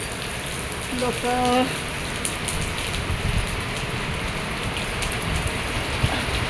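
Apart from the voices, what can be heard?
heavy rain falling in Mumbai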